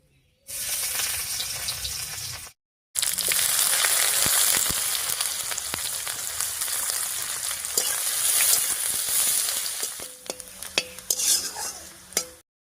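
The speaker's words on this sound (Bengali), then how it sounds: "এবারে থেতো করা রসুন আর পেঁয়াজটা দিয়ে দিচ্ছি" Crushed garlic and onion go into hot oil that already holds five-spice seeds and dried chilli. A loud, steady sizzle follows, with stirring clatter. It pauses briefly, then continues and thins out at the end with a few scrapes.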